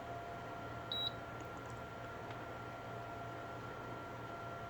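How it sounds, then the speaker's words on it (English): An IKEA Tillreda induction cooktop gives a single short, high electronic power-on beep over a steady background hum. "Okay, when you hear the beep, it's like ready."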